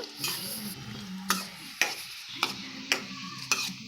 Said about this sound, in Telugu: కొంచెం ఉల్లిపాయలు బాగా కొంచెం ఎర్రగా వేగాలి అంతవరకు వేపుకోవాలి